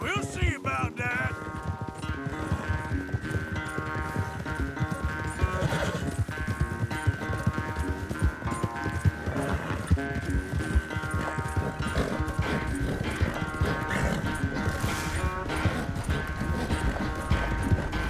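Horse hooves clip-clop at a steady run through a Red Dead Redemption 2 riding race, a continuous rhythmic beat under a loud music score.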